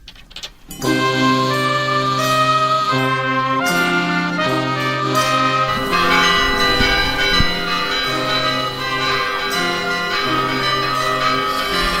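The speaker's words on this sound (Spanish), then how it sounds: "Así podían sonar las campanas del aseo" Church bells ring out loudly and continuously, several bells overlapping in a sustained, resonant peal after a brief quiet start.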